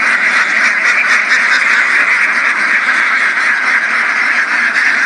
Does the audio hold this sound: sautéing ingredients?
no